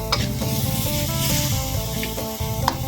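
Mushrooms and dried chili stir-fry in a pan with a bright, continuous sizzle broken by scraping stirs and occasional clicks, sounding close and fairly loud, with no voices.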